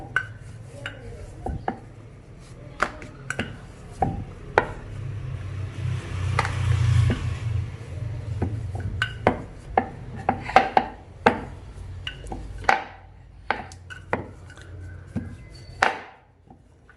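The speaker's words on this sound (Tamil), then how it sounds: "ஓரங்கள் கனமாக இருக்கும், அதனால் நம்ம முதல்ல ஓரங்களை கட் பண்ணிடலாம்." A knife taps and cuts repeatedly through thinly rolled rice flour dough on a board, trimming the thick edges, with irregular sharp clicks and a low background rumble, fairly close.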